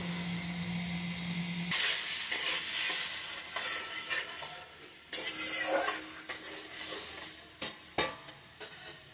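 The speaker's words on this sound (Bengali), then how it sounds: "এখন 2-3 মিনিট মশলাটাকে ভালো করে ঢেকে ভেজে নেওয়া হচ্ছে" Spice paste frying in a pan for singhi fish stew, a steady sizzle and hiss with stirring scrapes and occasional utensil clinks; no talking.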